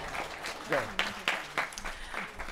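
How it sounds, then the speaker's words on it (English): An audience at a school Holi celebration claps in a round of applause, with scattered claps and cheering mixed with voices and rising and falling through the short stretch. "Give her a round of applause."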